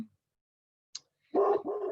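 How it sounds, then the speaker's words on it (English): A dog barks indoors during a home video call, a brief sharp yelp followed by a burst of loud, continuous barking or growling close to the microphone. "Give me a second, I'm just going to shush my dog."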